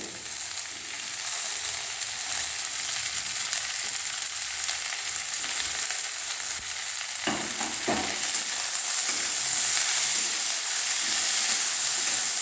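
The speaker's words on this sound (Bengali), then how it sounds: "আদা কুচি কাঁচা লঙ্কা কুচি দেওয়া হলো, দিয়ে ফ্রাই হচ্ছে" Chopped ginger and green chilli fry in a pan for chilli paneer, giving a steady, close sizzling hiss throughout, with a couple of brief stirring scrapes partway through and no talking.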